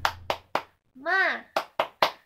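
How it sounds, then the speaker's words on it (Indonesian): Children do a sharp rhythmic 'tepuk semangat' hand clap in two quick bursts of three, with a short chanted voice between them, close and lively, in a classroom. "ayo kita tepuk semangat dulu"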